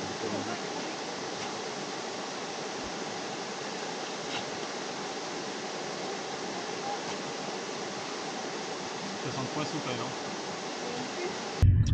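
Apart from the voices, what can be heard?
rushing water of the Hérisson waterfall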